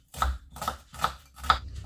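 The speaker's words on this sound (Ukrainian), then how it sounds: "Нарізаємо маленьку цибульку, як на засмажку." Four crisp knife chops through an onion land on a cutting board at an even, unhurried pace, close and clear with no voices.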